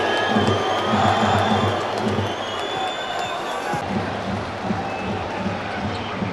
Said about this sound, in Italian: ora esce dal campo sotto l'applauso della propria curva